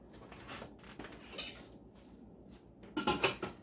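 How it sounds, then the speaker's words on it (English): A lid set onto a pot of milk during home dairy making, a few soft clinks of metal near the end after quiet kitchen handling, faint and close. "I'll put the lid on"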